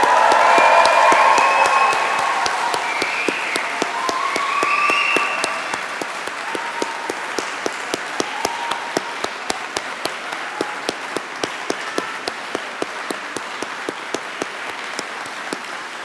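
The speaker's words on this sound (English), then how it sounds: "to thank them with a similar, equally loud cheer to the one that they've just given you." Graduation ceremony audience cheering and applauding, with loud whoops and voices at first that fade into sustained, even clapping from a large hall crowd, scattered sharp claps continuing throughout.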